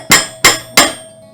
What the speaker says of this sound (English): At this stage you might need to get the hammer out and give it a little tap in